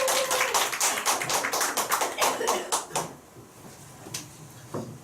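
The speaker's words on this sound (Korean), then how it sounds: "큰 박수 부탁드릴게요" An audience applauds loudly for a lecture speaker for about three seconds, then the clapping thins out to a few scattered claps before fading.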